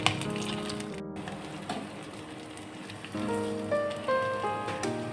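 Sabudana pakoras fry in hot oil with a continuous crackling sizzle, a brief cut partway through, then a few clinking tonal sounds near the end under the steady bubbling; no speech.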